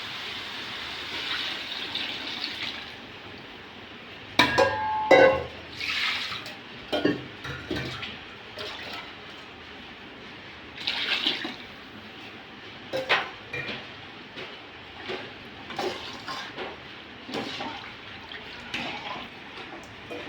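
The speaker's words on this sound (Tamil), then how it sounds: "இந்த இதில் நம்ம கடல மாவு அரைச்சி வச்சுருக்குறோம் பொட்டுக்கடலையை இப்போ ஊற்றிக்கலாம்." Ground gram flour batter is poured into a simmering potato masala for puri, with soft liquid splashing and gurgling, a few louder clinks of a vessel against the pot partway through, then quieter bubbling and scraping.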